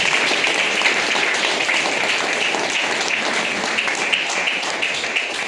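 Audience applause at a seminar-style gathering, a steady dense wash of many hands clapping throughout, loud and continuous without letup.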